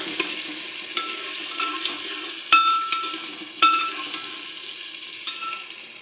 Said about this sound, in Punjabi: ਪਿਆਜ਼ ਪਾ ਦਿੱਤੇ ਨੇ ਆਪਾਂ ਹੁਣ ਇਹਨੂੰ ਹਲਾਵਾਂਗੇ ਕੜਛੀ ਦੇ ਨਾਲ